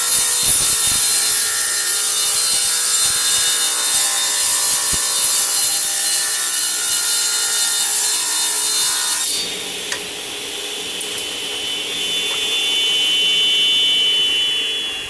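A thin wooden strip of guitar fretboard binding is fed along a saw fence, producing a steady, loud, continuous sawing whine. Partway through, the tone abruptly drops to a lower, quieter cut.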